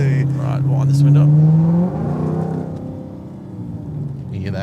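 A car accelerates up a freeway on-ramp from about 30 to 60 on an Australian road test, its engine note rising in pitch then shifting as it changes gear, loud and close inside the cabin.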